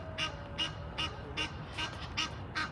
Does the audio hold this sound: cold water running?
no